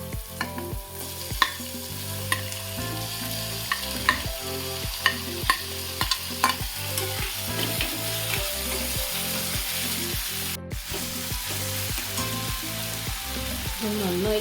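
Tomato, ginger and garlic fry loudly in a pan with a strong, steady sizzle and regular stirring scrapes, and a voice says a brief word over it.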